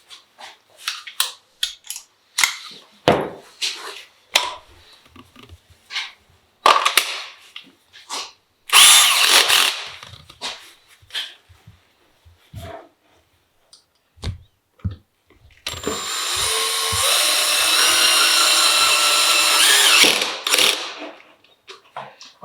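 A power drill drives Kreg screws into soft wood for a key rack, sounding as short bursts of whirring, then a long steady run of drilling near the end.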